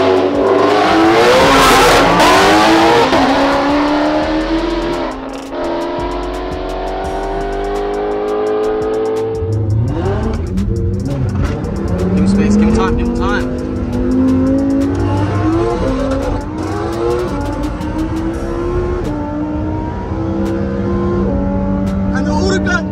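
Lamborghini Huracan STO and a 1000 HP Mustang Shelby GT500 launch side by side in a drag race, engines roaring loud and close as they rev and accelerate away, with voices talking over the noise.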